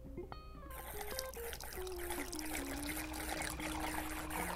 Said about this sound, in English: That is the sound of your wine decanting in just seconds.